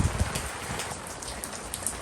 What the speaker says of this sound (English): It's kind of strange that I'm out here working in the rain in Southern California.